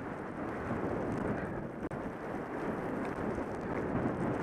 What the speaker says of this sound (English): The wind is coming right at us.